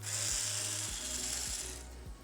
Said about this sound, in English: We're gonna take out our back panel here.